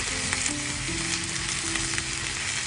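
Komatsuna greens with bonito flakes stir-fried in a pan, a close, even sizzle with a low steady hum beneath and a few faint scrapes, no one talking.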